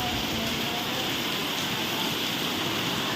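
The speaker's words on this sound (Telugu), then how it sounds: "ఫుల్ వాన పడుతుంది తగ్గుతుంది ఎక్కువ అయిపోతుంది" Heavy monsoon rain pours steadily outside at night, a dense, unbroken hiss with no pauses and no voices.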